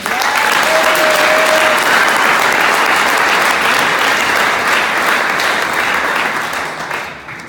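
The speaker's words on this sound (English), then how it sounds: "I must give these guys a round of applause" A crowd at a narcotics awareness rally in Bosmont gives a loud, sustained round of applause, dense clapping holding steady before tapering off at the end.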